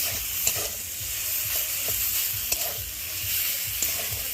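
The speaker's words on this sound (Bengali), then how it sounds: "নুন হলুদ মাখিয়ে রেখেছি, আর সেটাকে এখনও কড়াতে দিয়ে কষিয়ে নেব" Chicken coated in turmeric and salt frying in a kadai, a continuous close sizzle broken by several sharp scrapes and clinks of stirring, with no talking.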